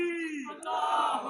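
A crowd at a religious conference raises a short, loud unison chant, voices rising in a sustained shout at close range.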